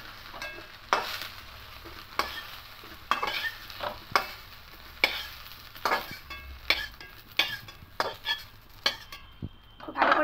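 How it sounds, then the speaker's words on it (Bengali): Soya chunks fry in oil in a wok with a soft steady sizzle, punctuated by irregular loud metallic scrapes and knocks of a spoon against the pan, close up and without talk. "খুব ভালো করে ভেজে নিচ্ছি এখানে।"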